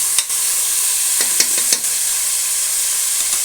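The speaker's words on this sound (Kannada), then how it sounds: "ಇದು ಚೆನ್ನಾಗಿ ಮಿಶ್ರಣ ಮಾಡಬೇಕು" Vegetables for palak paneer pulao stirred in a pan, with a steady frying sizzle and a few brief scraping strokes of the spoon, alone without talk.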